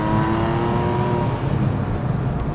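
A Porsche 997.1 Carrera S engine pulls hard through first and second gear, a steady, loud, close mechanical drone with a rising tone and no voices over it.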